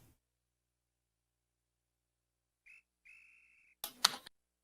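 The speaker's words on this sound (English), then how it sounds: "And there's a little whistle." A short whistle chirp, then a longer steady whistle tone from the Basketball Legend table of the pinball video game Pinball Graffiti, followed by a sharp loud clatter; otherwise quiet, with no talking.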